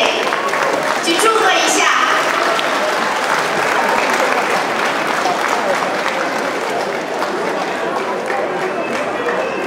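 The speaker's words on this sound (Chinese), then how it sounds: "大家掌声欢迎，大家掌声鼓励" An audience at a graduation ceremony at a Chinese-language school bursts into loud, sustained clapping that stays dense and even throughout, with a voice speaking briefly over it.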